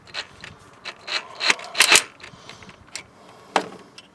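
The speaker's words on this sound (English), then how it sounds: "Just tighten the outside nut onto the first nut." A wrench tightens an outer nut onto a first nut on a stud while JBA longtube headers go onto a Nissan Titan. Close, dry rasps and clicks come in short irregular bursts with brief pauses between them.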